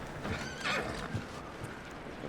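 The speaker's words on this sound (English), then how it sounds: "Next to calm the horse." A horse in Red Dead Redemption 2 whinnies and neighs in short bursts, with hooves clip-clopping close by, brief and moderately loud against a faint background.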